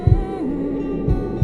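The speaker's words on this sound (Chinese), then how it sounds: "类似于在风中夹杂着心跳声" Dead Eye activating for John in the video game Red Dead Redemption 2: a low, steady wind-like hum with soft heartbeat thumps, a double beat at the start, another just after one second and a third at the end.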